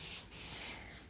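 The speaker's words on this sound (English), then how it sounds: "you can sand back and forth this way" Sandpaper rubs back and forth by hand across the body panel of a 1974 Plymouth Duster in two soft, close strokes.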